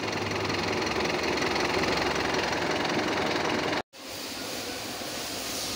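A Mitsubishi car engine, repaired after an ECU fault, runs steadily nearby with a loud, even droning rumble. It cuts out abruptly for a moment, then carries on at a slightly lower level.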